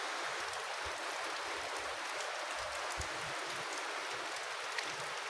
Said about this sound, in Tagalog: Ayan po guys, it's already raining.